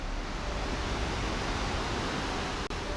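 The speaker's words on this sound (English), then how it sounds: "As you heard, the river was quite loud" Loud, steady rush of a river flowing beneath the Shinkyo bridge in Nikko, a dense broadband roar continuing without a break and heard alone.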